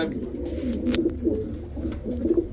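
A pair of red Danish pigeons coo steadily in a low, repeated rumble, soft and close, with brief pauses between the throaty phrases and no talking over them.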